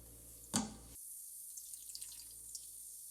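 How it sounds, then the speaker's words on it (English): Tap water starts running into the tank of a Bissell Little Green multi-purpose carpet cleaner with a short gush, then settles into a steady, faint hiss of filling. "Let's go ahead and put some water in, and we should be good to go."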